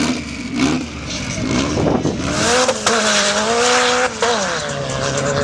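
A racing motorcycle on a timed lap at a September 2013 race meeting roars loud and close, its engine pitch rising and falling through gear changes and corners, with no talk over it.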